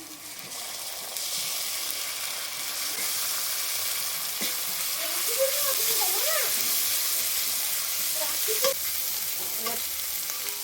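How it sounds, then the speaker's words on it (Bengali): Mustard and poppy seed paste fries in a pan for a pomfret curry, giving a steady, close sizzle with a few soft stirring scrapes over the hiss. "এবারে সরষে বাটা পোস্ত বাটাটা দিয়ে দেবো।"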